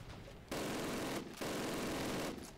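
Sustained bursts of machine gun fire in the World War II shooter Call of Duty: United Offensive, during a base assault at Ponyri. The fire comes loud and dense, two long continuous stretches separated by a short lull.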